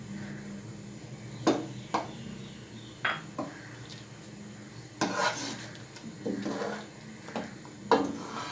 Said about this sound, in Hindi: 3 से 4 इलायची कूट कर अच्छी तरह वो भी इसमें शामिल कर दें।